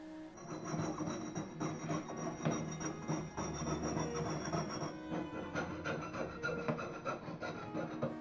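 Rhythmic rasping strokes of a saw cutting the foot off a metal vessel, fairly close and continuous, with a bright ringing edge.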